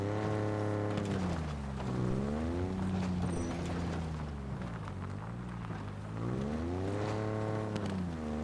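Warthog vehicle driving in Halo Infinite, an engine rising and falling in pitch as it accelerates and turns, steady and close, with wheel rumble and clattering over rough ground.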